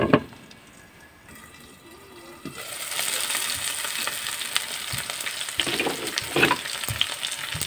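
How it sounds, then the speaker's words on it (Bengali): Onions and chillies frying until browned: after a quiet opening with a few faint clinks, a loud, steady sizzle swells up close, with occasional stirring scrapes and clinks over it. "তো আমি এইভাবে পেঁয়াজ মরিচটা ভেজে নিব"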